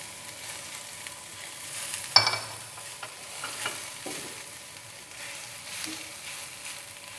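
Onions and potatoes frying in a pan for a samosa filling, a constant soft sizzle broken by a loud metallic clack and scattered scraping stirs from a spoon.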